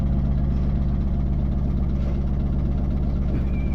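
A car engine idles steadily while the vehicle sits stuck in mud, a loud, even low rumble with a constant throb and no other sounds.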